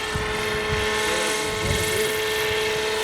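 Helicopter in Hamranes, its rotor and engine droning loud and steady throughout with a rhythmic chopping pulse, no voices over it.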